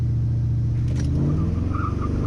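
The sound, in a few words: LS-swapped C4 Corvette launching hard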